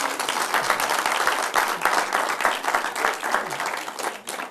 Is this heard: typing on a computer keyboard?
no